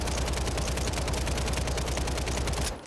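Sustained SMG gunfire in Call of Duty Warzone on Rebirth Island: a loud, rapid, unbroken stream of shots for nearly three seconds that cuts off abruptly at the end, with no talk.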